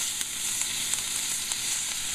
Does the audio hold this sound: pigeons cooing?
no